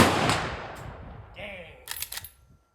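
A suppressed Henry Model X .357 lever-action rifle fires, giving a dull muffled report that fades, then a short cluster of metallic clicks and clacks from the lever action cycling.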